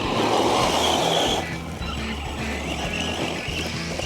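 An Arrma Senton 3S BLX brushless RC short-course truck laps a track, its motor whining loudly at first, then easing off to a steadier, quieter buzz with brief tire scrabbling and no talk.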